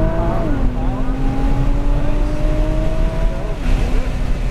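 A supercar engine on a race track holds a steady, loud drone with a rising whine as it accelerates, then shifts pitch near the end, with an instructor's voice faintly underneath.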